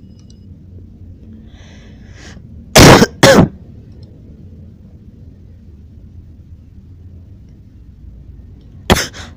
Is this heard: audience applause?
no